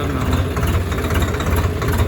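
A 2024 Swaraj 855 tractor engine running at a steady idle, a low continuous rumble with faint fluctuations and some indistinct background voices.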